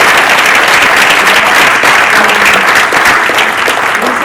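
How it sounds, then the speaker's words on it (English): A conference audience at a San Diego policy forum applauds its panelists, dense and loud clapping running continuously from start to finish. "A round of applause for our panelists"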